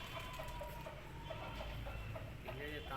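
Aseel rooster of the band gaddi type clucking softly in short, broken calls close by, over steady background noise and faint voices.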